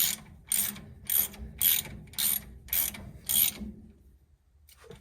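A ratchet wrench snugs up bolts on a 1970 Dodge D100 truck, six crisp, evenly spaced bursts of ratcheting clicks close up, followed by a short faint rattle.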